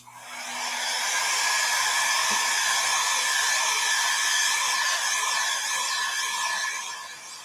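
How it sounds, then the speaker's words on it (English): A hair dryer blows steadily over a Christmas ornament, a constant close-up whooshing hiss that ramps up quickly, holds for several seconds and then eases off slightly at the end. "So I'm going to just hit this with a dryer real fast."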